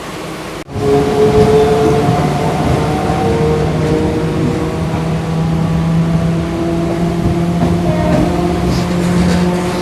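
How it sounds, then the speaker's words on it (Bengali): A local train pulls away on a single line along the Ganges between Majerhat and Bhootnath, its loud, steady engine drone and running rumble starting abruptly and holding constant. "তো অবশেষে আমাদের ট্রেন ছেড়ে দিল।"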